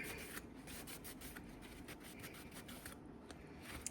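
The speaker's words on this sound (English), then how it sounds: "It just comes right off with a good little scrub." Scrubbing sticky blue heat-tape residue off a sublimation-printed magnet, a steady close rubbing and brushing sound with quick strokes throughout, moderately quiet and with no talking.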